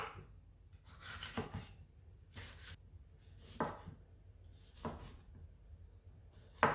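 A knife chops a red pepper on a cutting board in a kitchen, in several separate bursts of quick, crisp taps that end in sharper knocks, close and quiet with no talking.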